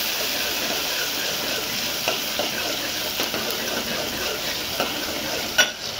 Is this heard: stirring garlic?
yes